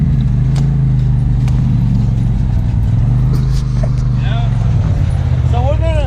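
An off-road vehicle drives on a rough trail, its engine a steady loud rumble close by throughout, with people talking and shouting over it.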